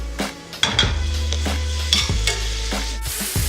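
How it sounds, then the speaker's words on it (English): Tomato sautés in a pan, with loud clanks and scrapes of a utensil against the pan over a low sizzle and a steady low hum, the metal strikes coming in irregular bursts. "Along with our tomato. Just gonna kind of saute that together."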